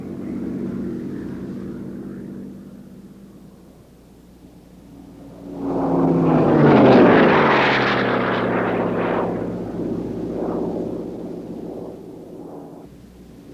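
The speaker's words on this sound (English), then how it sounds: "Ed Wiener's zebra-striped Mustang" A P-51 Mustang flies past at an air show: a distant propeller drone swells into a loud, close roar with a falling pitch as it passes, then fades slowly.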